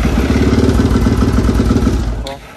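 An old Yamaha Raptor 660 ATV engine runs with the choke on, a loud close, lumpy rhythmic putter that fades out near the end.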